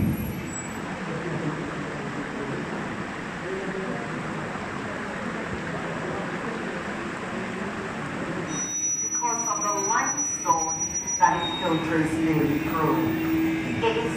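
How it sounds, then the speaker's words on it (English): A tram rumbles through Harrison's Cave in Barbados, its steady low engine and rolling drone filling the space before easing off, with a guide's amplified voice talking over the later part. "When the tram comes to a complete stop"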